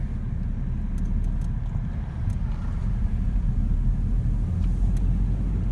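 A car accelerates up a hill on a road in the Hendon and Mill Hill driving test area: a steady, close, low engine and road rumble with light wind noise, no talk.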